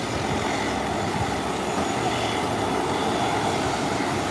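Sunrise Airways airliner taxiing toward the ramp, a steady broadband engine roar and hiss holding constant and fairly loud at middle distance, with no voices.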